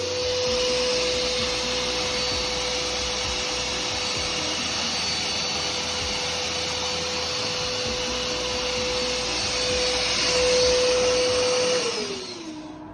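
A vacuum cleaner runs on suction while drying a wet carpet, a loud, constant whining roar with a steady tone that dips and winds down just before the end.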